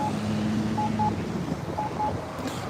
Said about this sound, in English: The beeping you hear in the back is the light signal